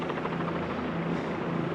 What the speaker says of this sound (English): they have swooped in all the helicopters here